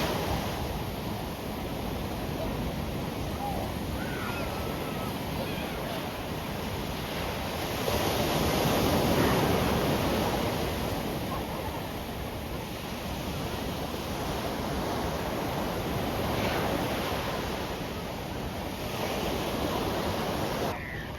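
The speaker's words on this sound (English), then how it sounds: "watch the waves come in and out at Nobbys Beach" Ocean waves breaking and washing in and out at Nobbys Beach, a continuous broad roar of surf with gentle swells in loudness and some wind rumble, no talking.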